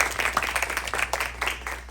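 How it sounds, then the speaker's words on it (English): Theatre audience clapping for the cast and crew of the play Python at an Australian theatre festival in New York, brisk close handclaps in an uneven rhythm over a steady low hum. "Let's give a round of applause for the cast and crew for that incredible work of Python."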